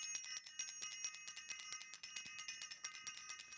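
A bright bell rings over and over in quick, repeated strikes, layered with a dense metallic shimmer that goes on through the whole stretch, fairly faint and with no talking.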